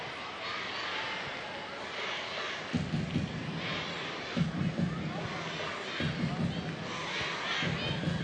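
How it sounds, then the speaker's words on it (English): A football stadium crowd at a Denmark vs Malta World Cup qualifier fills the air with a broad, steady roar and rhythmic chanting swells, heard from a distance beneath a commentator's voice. "Crowd will stay to the very end to celebrate a convincing scoreline."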